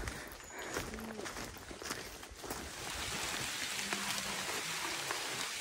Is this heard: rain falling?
yes